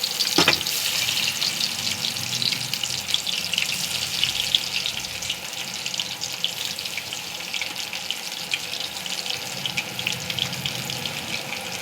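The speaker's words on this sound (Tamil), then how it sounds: "ஆயிலில் போட்டு நம்ம இது பலாக்காய் கபாப் பண்ணுறோம்." Raw jackfruit kebab pieces deep-frying in hot oil, a steady dense sizzle with bubbling crackle that holds close and fairly loud for the whole stretch, with no talking.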